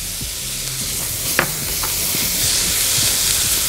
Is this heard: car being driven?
no